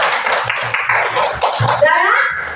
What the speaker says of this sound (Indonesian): Tepuk tangan lagi kasih plusnya.